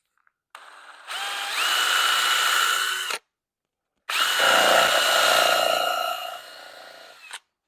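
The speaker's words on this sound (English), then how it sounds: "Now I'm simply going to take a countersink drill bit, and I'm going to run a hole in here." A power drill with a countersink bit drilling a hole whirs in two bursts, each spinning up and running steadily for a couple of seconds, with a brief silence between them.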